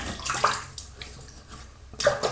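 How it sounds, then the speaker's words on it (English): Water splashes from hands wetting a face before a shave at a sink, a steady wet sloshing with a louder splash at the start and another near the end. "So I'm gonna wet my face again."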